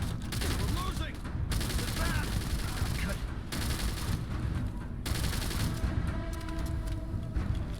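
Gunfire in the video game Starfield, bursts of rapid shots crackling over a dense battle soundscape with sharp cuts between loud volleys.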